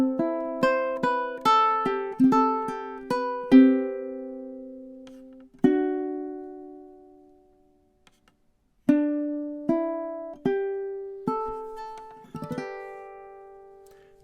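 Fingerpicked ukulele playing the closing measures of a gentle lullaby, plucked notes in quick runs that slow down, ringing out through a long pause before a few final notes, soft and close.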